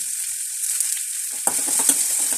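Mustard seeds, crushed onion, garlic and curry leaves fry in hot oil with a bright, constant hiss, then a clatter of stirring and popping joins in close by.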